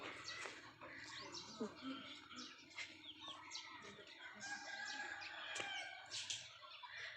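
Hens clucking and chattering nearby amid a busy farmyard, with bird calls scattered throughout and someone speaking over them.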